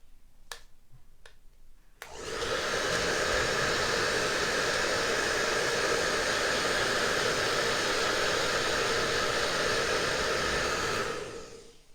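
A hair dryer starts up after two sharp clicks and blows steadily and loudly for about nine seconds to dry a corner of a Christmas tree craft piece, then cuts off.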